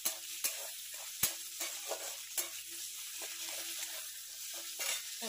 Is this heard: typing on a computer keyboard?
no